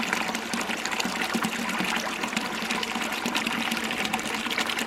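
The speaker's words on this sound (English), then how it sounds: "And that will fill the bucket up." Water flows steadily into a bucket at a ram pump, a continuous splashing, gushing rush that stays close and fairly even throughout, with no talking.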